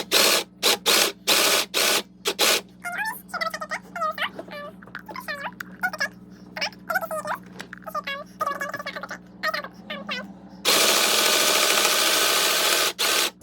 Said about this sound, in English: you just start sewing